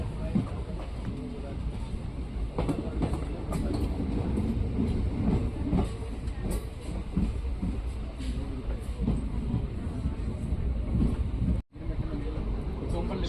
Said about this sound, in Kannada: ನಮ್ಮ ರೈಲೀಗ ಮುದಿಗುಬ್ಬ ರೈಲ್ವೆ ಸ್ಟೇಷನ್ಗೆ ಎಂಟ್ರಿ ಆಗ್ತಿದೆ